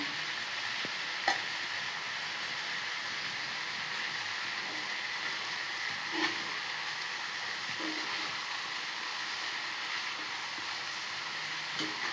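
Amaranth greens fried with lentils and grated coconut are stirred in a pan, a steady soft sizzle with occasional scrape and clack of the spoon against the pan, close and continuous with no talking.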